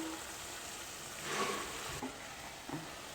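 A pan with cooked quinoa on a high gas flame sizzles faintly and steadily as an egg is added to it, with a few soft stirring knocks and no talking.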